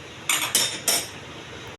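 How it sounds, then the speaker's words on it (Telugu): A metal bowl of junnu is set down into an idli cooker over simmering water, giving three quick, close metallic clanks spaced about a quarter second apart, then quiet. "ఈ జున్ను గిన్నె దించాలా ఇందులోకి,"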